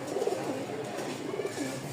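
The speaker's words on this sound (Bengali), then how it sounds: "2 জোড়া কবুতর আছে এখানে।" Two pairs of pigeons offered for sale at a market stall in Mirpur, Dhaka, cooing softly in repeated low throaty phrases, fairly close but quiet, with no talk.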